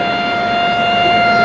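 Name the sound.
siren sounding during shooting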